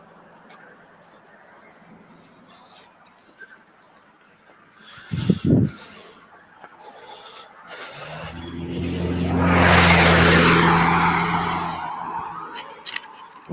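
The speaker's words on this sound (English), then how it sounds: "quite a bit of traffic out there" Road traffic passes outdoors: a vehicle's engine and tire roar swell steadily to a loud peak and fade away, preceded by a short thump and faint background noise.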